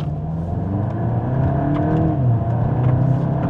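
Engine of a front-wheel-drive VW Golf GTI Mk8.5 Clubsport accelerating on back roads, a steady, full drone with rising tones and partly synthesized cabin sound, heard from inside without talk.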